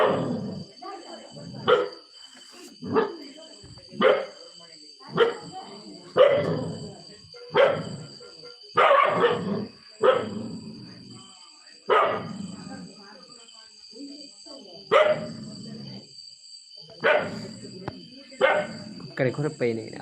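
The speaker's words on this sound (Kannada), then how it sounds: "ಇದು ನಮ್ಮ ನಾಯಿ." A household dog barks in a steady series of sharp, close bursts roughly every second or two, with people talking and calling around it.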